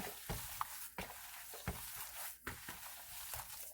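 A utensil stirs food in a pan or pot, giving soft irregular scrapes and taps with a faint sizzle in the background.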